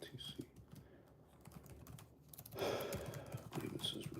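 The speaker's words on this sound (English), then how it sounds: "Let me just type this up real quick." Fast, steady clatter of typing on a computer keyboard, close and busy, running under faint background voices, with a louder stretch partway through.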